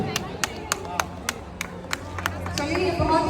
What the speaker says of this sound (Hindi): कमाल आपके तरफ से एक बार जोरदार ताली